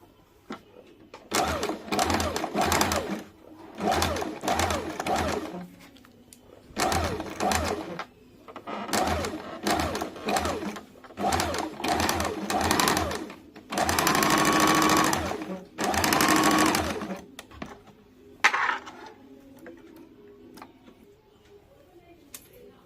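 A sewing machine stitches kurti fabric in repeated short bursts of rapid, rhythmic whirring separated by pauses, near and fairly loud, ending with a quieter stretch.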